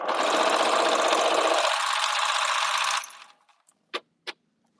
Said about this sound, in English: All I'm doing is sewing straight lines.